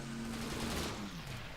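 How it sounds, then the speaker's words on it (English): Twin heavy cannons, around 37mm or 40mm, fire from a Heinkel Lerche aircraft in the IL-2 1946 flight simulator, a rapid rumbling burst over steady engine drone, close and continuous. "Let's just fire off the cannons here."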